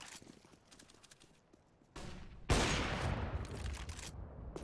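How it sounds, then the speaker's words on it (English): AWP sniper rifle shot in a CS:GO esports match, a sudden loud crack followed by a sustained burst of noisy game action and crowd din, preceded by quieter clicking game sounds. "Potter back on that AWP"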